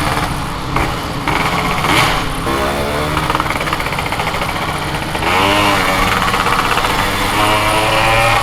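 A Yamaha RX King two-stroke motorcycle engine at a motovlogger gathering, a loud continuous buzzing drone that rises in pitch as it revs, dips briefly, then climbs again, close and alone.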